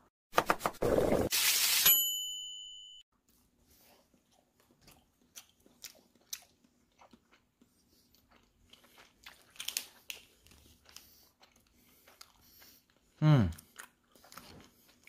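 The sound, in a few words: eating and chewing Seoul Milk cheddar cheese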